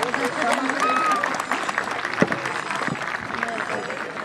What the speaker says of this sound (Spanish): fuerte el aplauso para el señor intendente, organizador de este espectáculo